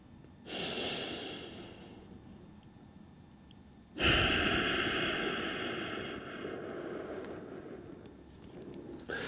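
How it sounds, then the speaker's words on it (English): Close, audible breathing during a foam-roller fascia release for golf swing rotation: a deep inhalation, then after a brief lull a longer, steady exhale that slowly fades, with no voice over it. "take a deep breath in, press into the roller, and release for a longer exhale than inhale"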